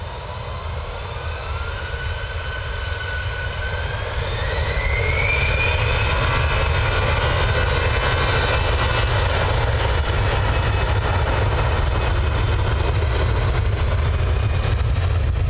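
An airliner arrives at Manchester Airport, its jet engine roar swelling steadily over several seconds and then holding loud and close, with a rising whine and no talk.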